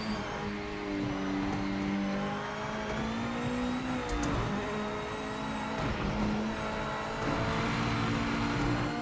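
A BMW race car engine drones steadily in a racing game, its pitch sliding up and down through gear changes over a constant bed of road and tire noise, with no voices over it.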